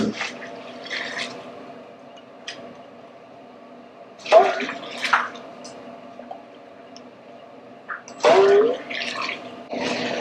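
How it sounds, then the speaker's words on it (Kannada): Hot water poured from a nearby heating vessel into a large pot of hotel-style idli sambar, heard as a few short splashing bursts over a steady background hum. "ಆ ನೀರು ಇದ್ರಲ್ಲಿ ಹಾಕೊಂತ ಇದ್ದಾರೆ."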